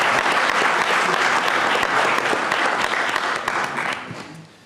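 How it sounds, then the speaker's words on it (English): Steady clapping from an audience at a school board meeting, a dense close wash of hands that holds for several seconds and then tapers off at the end. "Let's give her a round of applause."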